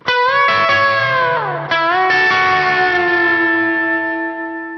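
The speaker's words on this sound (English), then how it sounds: "then I'll show you the hook guitar part" Sustained electric guitar notes drenched in effects, with pitch bends sliding down and a long, ringing, echoing tail fading out.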